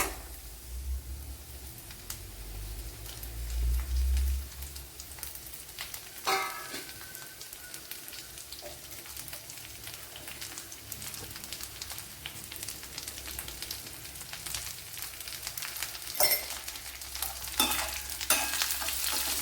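Onion frying in a pan for a Kerala-style bean and cauliflower dish, a soft, steady sizzle with occasional stirring scrapes and clatters, fairly faint and close, with no talking.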